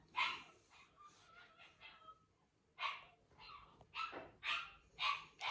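A dog at bedtime barks and yips in short, sharp bursts, close by and fairly faint, with drawn-out whining howls between some of the barks.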